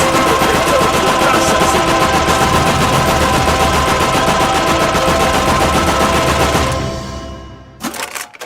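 A real light machine gun fires a long, very loud sustained burst of rapid rhythmic shots for about seven seconds, then stops, leaving a fading echo and a few brief clatters.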